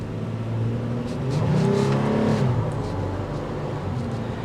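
A 2024 Toyota 4Runner Limited pulls away from a stop, its engine note swelling as it accelerates, then easing into a steady drone with road noise.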